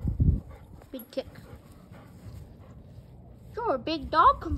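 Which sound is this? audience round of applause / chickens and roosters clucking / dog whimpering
dog whimpering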